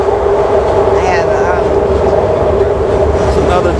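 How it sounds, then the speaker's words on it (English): A train rumbles past close by, a loud steady roar of rail noise with faint squealing overtones, while people talk over it. "It's another train."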